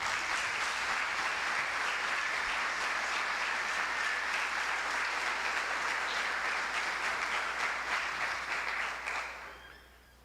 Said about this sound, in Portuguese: Ninguém quer aplaudir, né?